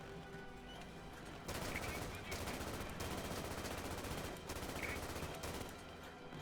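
Machine gun fire in the Easy Red 2 war game, dense rattling bursts in several sustained stretches with short pauses between, fairly loud over the battlefield background.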